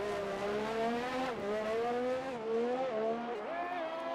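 A Formula 1 race car in a racing video game, Belgium round, crossing the line with a loud, close high-pitched engine whine that rises and drops through several gear changes, with faint commentary underneath.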